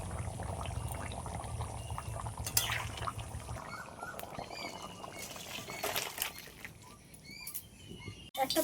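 Fish curry gravy with potatoes bubbles and patters softly in a pan, a low, continuous simmer with small pops and splutters.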